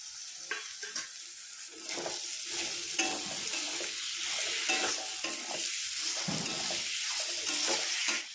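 Tomatoes cook with garam masala in a pan, a close spoon stirring and scraping continuously over a bright frying sizzle, with faint running water in the background and no talk.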